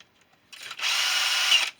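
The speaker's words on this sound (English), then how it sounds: "and then all you do is get your drill," A handheld power drill whirs up and runs steadily for about a second, close and loud, while twisting thin wires into a cable, then stops abruptly.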